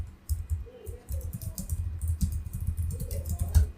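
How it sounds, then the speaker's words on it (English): Fast, irregular typing on a computer keyboard: a dense run of small clicks and key taps at close range, with a few brief pauses, no voice over it. "we'll just type an URL here"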